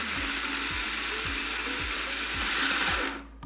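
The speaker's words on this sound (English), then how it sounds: "just secure the lid on your food processor, give it a really good chop." A food processor chops granola ingredients coarsely, a steady whirring motor with rhythmic clunking pulses about twice a second as the blade catches the pieces, running loud and close before winding down at the end.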